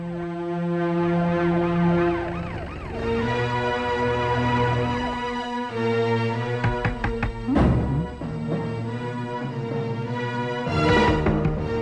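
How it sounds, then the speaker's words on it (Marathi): A wailing siren rises and falls continuously in a Marathi film scene, loud and close, with shifting pitch sweeps, a brief clatter partway through, and no speech over it. "सायरन?"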